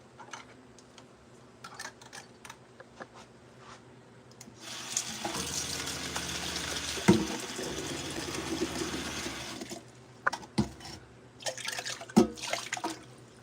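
Water pours out of a container that still holds settled sand, a rushing splash lasting several seconds, framed before and after by small drips and clinks.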